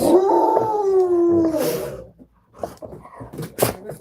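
A dog howls loudly and close for about two seconds, a long wavering tone, then falls quiet before a few short yips and whimpers follow.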